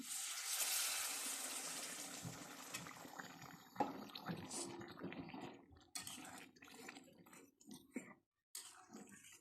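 Water is poured into a hot pan of potato and flat bean curry, giving a loud rushing hiss at first that gradually fades into softer bubbling and a few light knocks, close and without speech.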